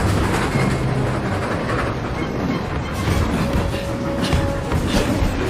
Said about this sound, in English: James Mangold likes scenes on top of fast-moving trains